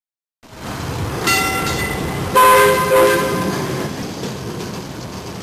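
A train rumbles past close by with a steady roar and clattering wheels, a horn blaring twice partway through.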